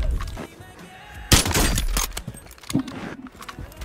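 Sharp gunshots from an enemy player in Warzone crack out in a few close, separate shots, with one loud burst standing out among quieter game noise.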